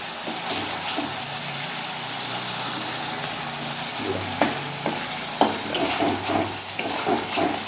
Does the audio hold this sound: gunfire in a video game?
no